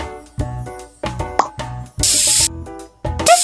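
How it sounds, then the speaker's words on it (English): A medical spray is used on an infected eye in a children's doctor game, with short hissing bursts mixed among bright cartoon plops and chimes. "Remove it with a medical spray."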